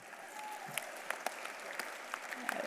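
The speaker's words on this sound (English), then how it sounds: "let's get a round of applause for that right now" An audience at a charity award event gives a round of applause, fairly quiet and distant, with scattered individual claps standing out from the steady patter.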